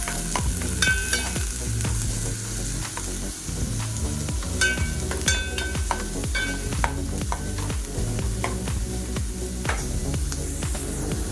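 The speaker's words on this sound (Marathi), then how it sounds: "तेल चांगलं गरम झालेलं आहे, तर त्याच्यामध्ये आता आपण हा कांदा ऍड करणार आहोत।" Chopped onions sautéing in hot oil in a kadhai for kurdai shev bhaji, a steady close sizzle with the scrape and clatter of a stirring spoon throughout, no talk.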